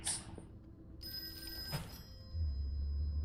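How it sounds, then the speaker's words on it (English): A telephone in a detective video game rings with a quiet, bright electronic trill over low background hum, the ring heard briefly alone before a deeper tone swells in. "Excuse me, my phone is ringing."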